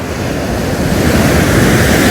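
Ocean waves crashing against a breakwater on the East Sea coast at Geojin beach, a loud, continuous roaring surge of surf with heavy wind-buffeted rumble, close and unbroken throughout.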